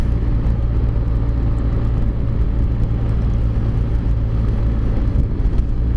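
A big, heavy 1200cc motorcycle cruises along with a steady, loud low engine drone and wind rush, unbroken and without talk.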